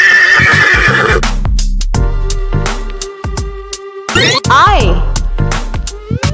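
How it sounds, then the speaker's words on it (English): A horse whinnies loudly with a rising and falling neigh, accompanied by a bit of hoof clip-clop and a cheerful musical backing, presented as a children's alphabet example. "H for horse."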